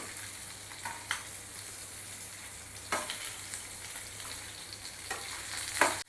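Fish frying in a pan with a soft, steady sizzle and a low hum underneath, broken by a few sharp scrapes of a spatula, close but quiet, with nobody speaking.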